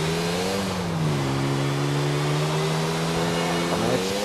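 Car engines rev and hold a steady droning pitch during a drag race in the GTA video game, loud and close throughout with a slight rise and dip in pitch.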